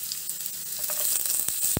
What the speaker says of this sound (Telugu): సన్నగా కట్ చేసుకున్న వెల్లుల్లిపాయలు వేసుకుందాము. వెల్లుల్లిపాయలు కొద్దిగా ఫ్రై అయ్యాక